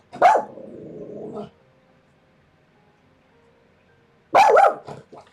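A dog barks in two bursts, the first a bark trailing into a low drawn-out growl, then a short silence before a second sharp volley of close, loud barks and yips indoors.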